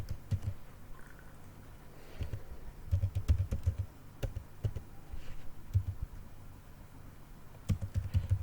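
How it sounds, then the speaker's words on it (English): Typing on a computer keyboard while writing C code, with soft, irregular bursts of key clicks and taps at close range, pausing briefly between runs of keystrokes. "better let me type the code and explain"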